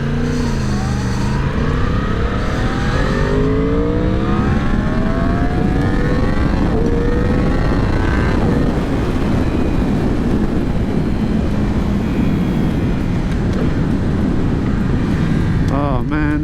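A 2017 BMW S1000RR motorcycle revs loud and close in traffic, its engine pitch climbing in repeated rising sweeps that stay high as if stuck in too low a gear, with heavy wind rumble throughout.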